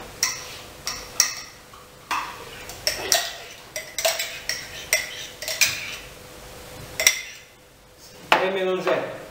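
Eggs beaten with crème fraîche for a quiche Lorraine: a whisk or spoon clinks against a bowl in a quick, uneven run of close clicks, with a brief louder scrape near the end.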